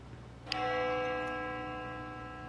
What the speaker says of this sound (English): The sound of a bell echoes in my ears.